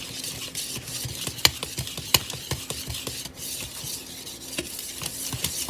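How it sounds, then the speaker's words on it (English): A baking mixture is stirred in a bowl with a utensil, giving a steady scraping, swishing rhythm with a couple of sharp clinks against the bowl; it sits at close range and moderate volume with no talking. "I'm going to go ahead and stir this stuff in"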